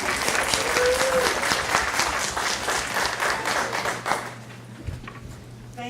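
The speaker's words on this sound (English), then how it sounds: "And we want to give you a round of applause." Parents at a family STEM Saturday program receive a lively round of applause from the audience that lasts about four seconds before dying away into a quieter room.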